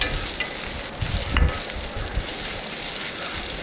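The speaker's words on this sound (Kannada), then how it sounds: "ಈರುಳ್ಳಿ ಚೆನ್ನಾಗಿ ಫ್ರೈ ಆಗಬೇಕು ಮೊದಲು" Onions fry in a hot pan with a dense, continuous sizzle, punctuated by a few scraping stirs and clanks of a utensil, fairly loud and close, with nobody talking.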